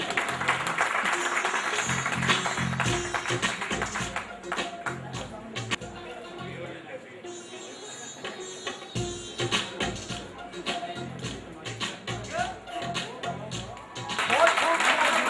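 Audience applause for actress Bahar Begum at a Pothwari drama show, a spread of scattered claps and crowd noise running through the stretch, mixed with voices and background sound.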